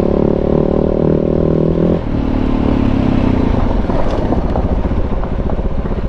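A self-built, self-tuned KTM 690 big bore motorcycle engine pulls hard on a trail ride, a loud, droning exhaust note shifting pitch partway through, heavily mixed with buffeting wind noise on the microphone.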